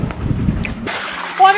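Creek water splashes and sloshes at a waterfall in Pine Creek Canyon, Red Rock Canyon, heard close and loud in a short, steady rush.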